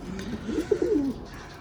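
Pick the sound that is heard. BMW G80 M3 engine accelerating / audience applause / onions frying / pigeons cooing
pigeons cooing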